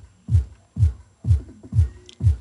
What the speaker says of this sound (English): And these subs are just going to make that boom sound.